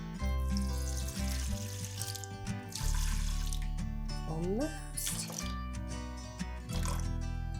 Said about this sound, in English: And now we're gonna do 355 grams of filtered water.